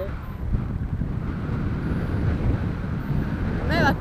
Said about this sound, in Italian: il flusso del vento è bello forte.